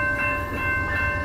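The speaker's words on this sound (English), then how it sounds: "This is Amtrak 14, Coast Starlight, going to Seattle on the Nile Subdivision." Amtrak Coast Starlight train #14, led by ALC-42 and P42 locomotives, passing in Oakland, California with a loud continuous rumble and a steady high-pitched metallic ring from the rails.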